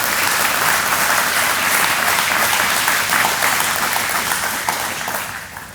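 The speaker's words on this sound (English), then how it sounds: "they deserve a huge round of applause for all of their support of this project" A crowd claps in dense, sustained applause at a building dedication ceremony, holding steady and loud before tapering off slightly near the end.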